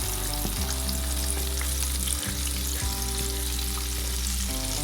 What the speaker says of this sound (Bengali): মশলা এবং মাংসটা একসঙ্গে ভেজে নেব।